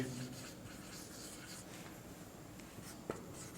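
A pen moves across paper as a sentence is written, a quiet continuous scratching that carries on for several seconds and ends with one small tap.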